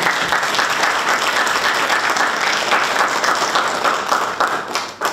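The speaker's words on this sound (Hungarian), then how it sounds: "Úgyhogy egy tapsot megérdemelnek." Audience applause at a jubilee meeting of a village historical society in Dunabogdány, Hungary: dense, continuous clapping from a roomful of people, steady throughout and tapering slightly at the very end.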